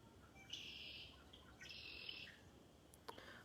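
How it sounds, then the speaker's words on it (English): A red-winged blackbird gives two buzzy, trilling calls at a distance, faint and outdoors near a feeder, with a few sharp chips near the end over quiet background hiss. "that call was a red-winged blackbird"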